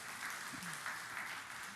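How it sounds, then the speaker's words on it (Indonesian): A church congregation applauds during a sermon, a soft, distant patter of clapping that stays even throughout, with a faint voice briefly in the background. "beri tepuk tangan yang meriah bagi Tuhan Yesus."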